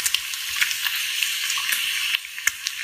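Bacon sizzling in a pan gives a continuous bright hiss scattered with small crackling pops, steady and fairly close, with no talking.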